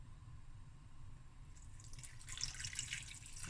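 Water runs and splashes into a pot holding sugar, cinnamon sticks and salt, faint at first and growing louder in the second half, close by with no voices.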